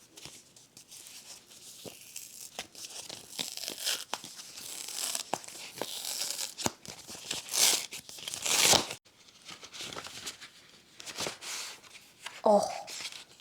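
A paper envelope holding bookmarks is torn and rustled open, with continuous crinkling, tearing and crunching close by, getting louder in bursts, while a person talks intermittently.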